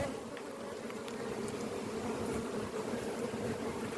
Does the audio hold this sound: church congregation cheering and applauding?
no